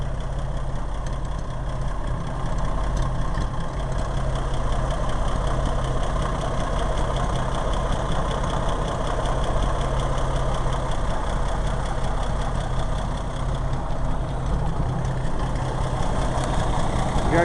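A big 501 cubic inch truck engine with cast dual 3-and-3 headers idles steadily, a loud, continuous low rumble that holds throughout without revving.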